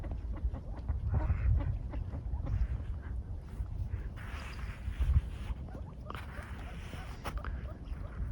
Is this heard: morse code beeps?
no